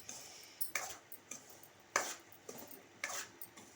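Semolina (rava) being roasted in a pan for rava laddu, with a spoon scraping and clinking against the pan in a few sharp, separate strokes at a quiet level.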